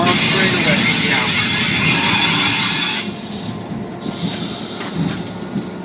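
A train locomotive runs close by, pulling into a workplace. Its loud, dense rumble with rail noise drops noticeably in level partway through and continues as a softer rolling sound.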